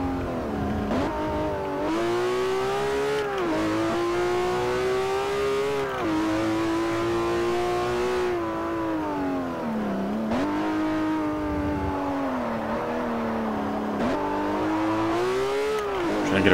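A Ferrari 599 GTO in the Forza Motosport 4 racing game, its engine revving hard and climbing through gears with repeated rises and dips in pitch, loud and continuous without talk.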